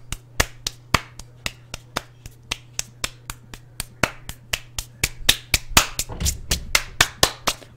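Sharp hand claps repeat in a steady rhythm, about three to four per second, with a low constant hum underneath and no talking.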